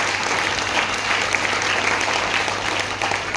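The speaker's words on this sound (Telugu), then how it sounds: "ఒక్కసారి winning team great round of applause" A large crowd in a hall applauds a winning team at an entrepreneur meeting, producing continuous, loud, even clapping that fills the whole stretch without pause.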